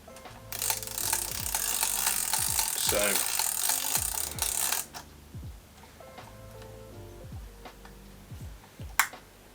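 Film wound on in a Yashica Mat 124G camera: a run of close ratcheting clicks and gear ticks in uneven rhythm, quieter intermittent clicks following, then a single sharp snap at the end.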